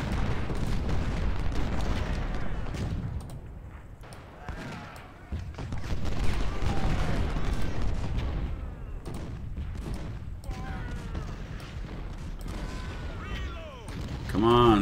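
Sharpshooters firing in the Ultimate General: Civil War video game during a Spotsylvania Mule Shoe battle, a steady crackle of rifle shots and booming reports running throughout, with someone talking over much of it.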